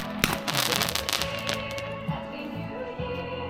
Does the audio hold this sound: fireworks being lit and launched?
yes